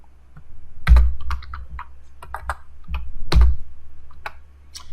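Typing on a computer keyboard while editing a file, close and clear, with irregular clusters of key clicks and a couple of heavier strikes.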